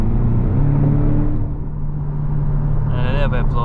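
Porsche 718 Boxster engine hums steadily from inside the cabin, with turbo intake whoosh behind the doors and a short airy hiss near the end like a blow-off valve venting.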